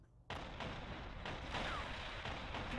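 A missile launcher turret fires in a Warhammer 40,000 video game, with a sudden loud launch followed by a sustained rumbling roar and booming impacts that carry on to the end.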